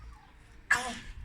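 A girl sneezes once, a sharp, close burst lasting well under a second against a quiet background.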